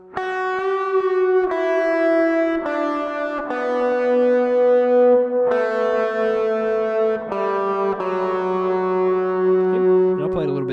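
Electric lead guitar riff from a song, played below full tempo with effects: a continuous sustained single-note melodic line over about ten seconds, close and steady, with no voices.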